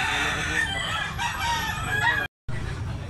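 A young stag rooster crows loudly and close at a poultry market in Tabunok, Cebu, one long sustained call broken by a brief gap, with other fowl clucking behind.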